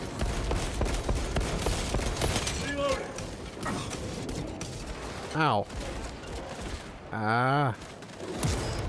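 Rapid bursts of gunfire from the video game Warhammer 40k: Space Marine 2, sharp rattling shots mixed with mechanical clanks, under a player's pained yelps and two warbling sweeping game effects.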